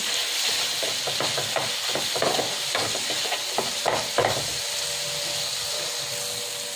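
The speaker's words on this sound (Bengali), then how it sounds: "দিয়ে আমি খুব ভালো করে ছানাটা এর সাথে মিশিয়ে দেব" Chhana, a fresh Indian cottage cheese, is stirred and mixed with garam masala powder in a pan, giving steady scraping and light sizzling close by with no one speaking.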